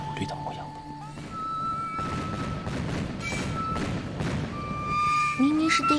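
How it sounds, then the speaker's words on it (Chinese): Fireworks burst in a staged fantasy-drama scene, with several muffled thuds and crackling pops under a sustained musical tone, and a rising whistle near the end. "这叫烟花"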